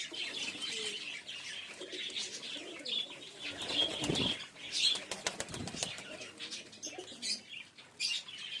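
Pigeons, including fancy and flying breeds, are hand-fed at night, with repeated wing flaps and soft cooing and chirps that continue steadily throughout, close by and fairly quiet.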